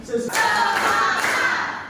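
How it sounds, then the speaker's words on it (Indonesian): A classroom of students bursts into applause after a brief voice, a dense, steady wash of many hands clapping together for over a second before tapering slightly. "Kasih aplaus dulu untuk semuanya"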